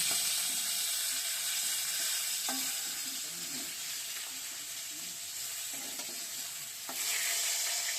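Katla fish pieces fry in hot oil in a kadai, a steady close sizzle that runs unbroken the whole time, briefly softening midway before swelling loud again near the end, with a few faint clinks and no talk.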